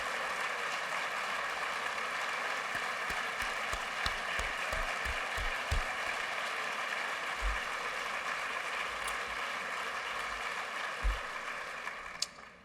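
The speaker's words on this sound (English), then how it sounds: "That deserves another round of applause and another standing ovation." Applause and a standing ovation from the crowd at a city's State of the City address, a steady, fairly distant wash of clapping with a few sharper claps and low thumps scattered through.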